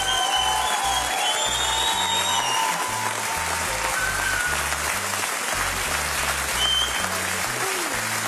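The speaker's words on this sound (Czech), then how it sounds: "To je váš, ešte stále neutichajúci aplaus." Sustained, loud audience applause after a solo jive dance on a televised dance competition, continuous clapping with a steady beat of music underneath and faint crowd noise.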